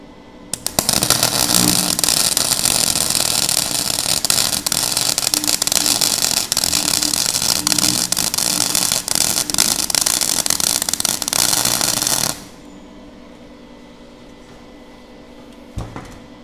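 MIG welding with a Nagano MIG welder, a loud continuous crackling buzz that lasts about twelve seconds and then cuts off abruptly, leaving quiet room tone.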